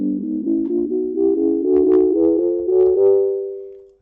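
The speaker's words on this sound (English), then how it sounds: "What you're hearing is the instrument that I'm going to hook this up to" An electronic instrument triggered from a Korg Nanopad 2 controller plays a quick run of rising sustained synth notes with bright harmonics, steady and fairly loud, ending on a held tone that fades out.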